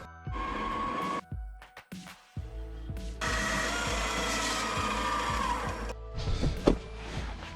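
A power saw cuts through metal for a pie-cut fabrication piece, two loud sustained cutting passes separated by a brief pause and clatter, with a final burst of knocks at the end.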